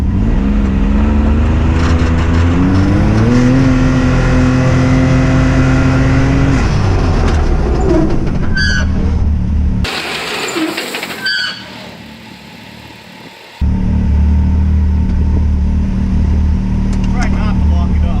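A vehicle engine revs up and strains under load as it is put in gear during a pulling race, loud and close, with the engine note climbing and then cutting out briefly before returning; people talk over it.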